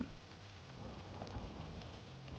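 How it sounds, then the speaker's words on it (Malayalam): Heavy rain falls steadily over a plot of young avocado saplings, a dense continuous wash with faint rumbling low underneath, no voices. "നല്ല മഴ"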